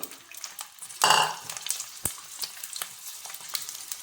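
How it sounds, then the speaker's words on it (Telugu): Whole gooseberries (amla) drop into hot groundnut oil and fry, bursting into a loud sizzle with sharp pops and crackles that keep going over a steady frying hiss, with no talk. "ఆయిల్ వేడెక్కింది. ఇప్పుడు నేను ఉసిరికాయలు వేస్తున్నాను"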